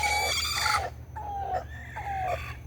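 Backyard chickens cluck and call nearby, with several drawn-out, falling cries in a row over a low background hum, and nobody talking.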